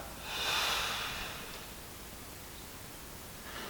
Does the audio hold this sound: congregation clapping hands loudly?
no